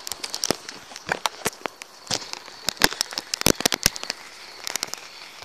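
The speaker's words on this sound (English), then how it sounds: "it's starting to rain" Scattered sharp taps and crackles, like raindrops hitting a hard surface nearby, arrive irregularly with no talking.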